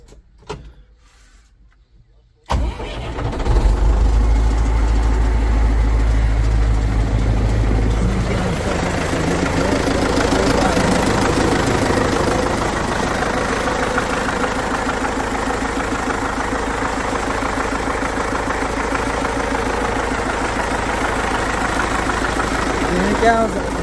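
A Belarus 1025.2 tractor with about 6000 working hours cranks and fires after a quiet start, then settles into a steady, rumbling diesel idle heard from inside the cab.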